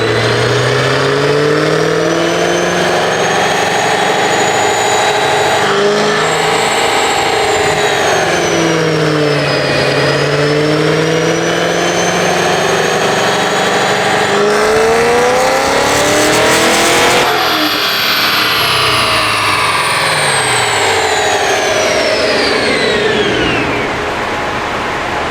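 A Cadillac CT5-V Blackwing with a Stage 1 tune revs hard on a dyno pull, a loud, continuous engine roar that climbs and falls in pitch through the gears and then winds down near the end.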